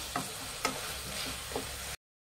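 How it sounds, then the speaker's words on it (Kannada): Tomatoes frying with turmeric in a pan for hotel-style dal fry: a soft, steady sizzle with a few light clicks of stirring, then a sudden cut to silence. "ಇದನ್ನು ಸ್ವಲ್ಪ ಟೊಮೆಟೊ ಸಾಫ್ಟ್ ಆಗಬೇಕು, ಅಲ್ಲಿವರೆಗೂ ಫ್ರೈ ಮಾಡಬೇಕಾಗುತ್ತೆ"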